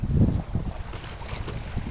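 A sailboat glides along on a light-wind day off the Florida Keys, with low rumbling water wash and wind buffeting on the microphone, fairly quiet and steady, no talking.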